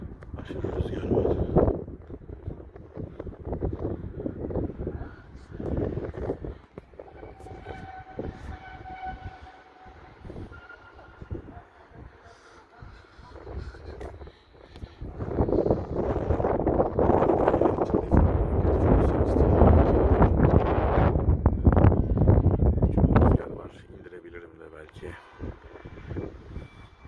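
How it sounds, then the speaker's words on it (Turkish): Strong gusting wind buffets the microphone outdoors near a pigeon loft, roaring loudly in long surges, heaviest for several seconds past the middle, with brief talk and faint tones in between. "Aşırı rüzgar var."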